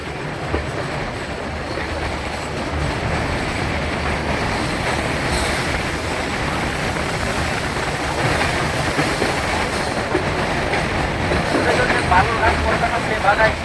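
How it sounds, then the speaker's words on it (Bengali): The Balurghat–Kolkata Tebhaga Express with new LHB coaches crosses Farakka Barrage near New Farakka Junction. A loud, close, continuous rumble carries wheel clatter and faint squeal that grows toward the end. "বালুরঘাট কলকাতা তেভাগা এক্সপ্রেস প্রথম দিন নতুন এলএইচবি কোচ দিয়ে চলে যাচ্ছে নিউ ফারাক্কা জংশন ঢুকে ফারাক্কা ব্যারেজ পার করছে।"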